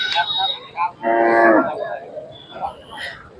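A Khillar bull at a cattle show lets out one loud, drawn-out low moo in the middle, with scattered farmyard noise before and after.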